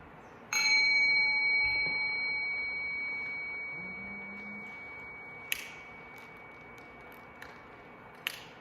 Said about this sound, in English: We bring our minds into focus by sounding a bell that compels us to listen intently to catch the last vibrations of a fading sound.